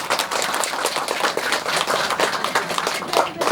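Guests at a wedding ceremony clap together in a dense, steady round of applause that holds at an even level throughout.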